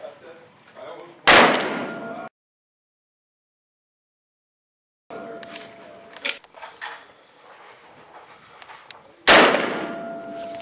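Short-barreled Remington 870 shotgun fired outdoors, two sharp loud blasts several seconds apart with a silent gap between, plus handling clatter and faint voices in between.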